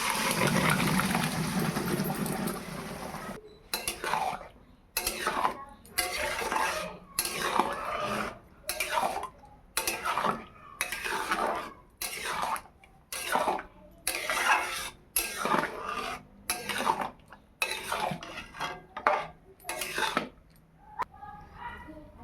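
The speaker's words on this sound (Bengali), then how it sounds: "এবার সিদ্ধ করে রাখা ডালটা দিয়ে দেবো।" Boiled lentils go into a cooking pot, followed by a long run of rhythmic metal scraping and clinking as a spoon works against the pot, fairly close and moderately loud.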